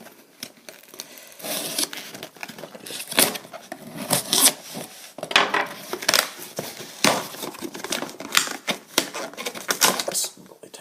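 Very tight packing tape is pulled off a cardboard box in a series of close, crackling rips and rustling scrapes, uneven in rhythm, with occasional talk.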